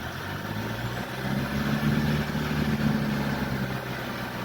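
A car engine idles at about 800 RPM, a low, steady rumbling hum at moderate distance that swells slightly in the middle, with no talk over it.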